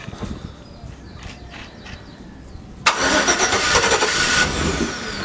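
A pickup truck with a muffler delete cranks and fires up, its engine bursting into a loud, raspy roar after a few seconds of quieter background noise.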